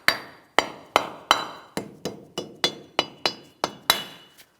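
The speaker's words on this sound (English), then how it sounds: "We'll tap this in place using a rubber mallet." A rubber mallet taps a protective cover into place on the front upper control arm area of a 2007-2014 GMC Sierra 2500 HD, giving about ten sharp, evenly spaced knocks with short ringing decay, close and alone.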